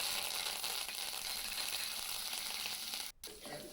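Curry leaves fry in oil with a faint, steady hiss that runs almost without a break, cuts out briefly, then resumes more softly. No voices are heard.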